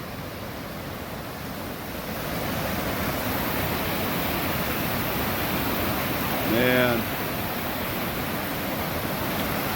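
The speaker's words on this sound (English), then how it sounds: "Just white water." Loud white water rushes down a stream beside a road, a dense, steady hiss and roar swelling after the first couple of seconds, with someone briefly speaking over it.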